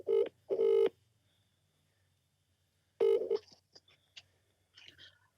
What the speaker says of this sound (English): We're ringing her.